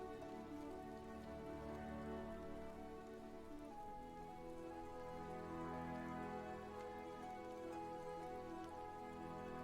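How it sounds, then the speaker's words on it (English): Steady in-game rain patters on surfaces in My Time at Sandrock, a continuous moderate wash layered over soft tonal game music, with no talking. "It's raining."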